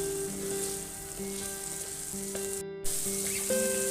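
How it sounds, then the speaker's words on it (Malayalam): Small onions frying with salt in a pan for a fish curry, a steady close sizzle with faint stirring scrapes and a brief dropout near the end. "നമ്മുടെ ചെറിയ ഉള്ളി ഇവിടെ നന്നായിട്ടൊന്ന് സോഫ്റ്റായിട്ട് വരുന്നുണ്ട്"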